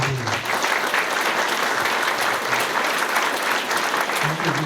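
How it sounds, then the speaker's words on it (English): An audience at an Elks Lodge scholarship ceremony gives a warm round of applause for a guest, dense and fairly loud, sustained evenly for several seconds. "How about a warm applause for my friend, John Keenan"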